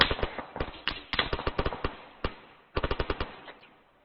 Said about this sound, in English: Advise MG active, far left bunker.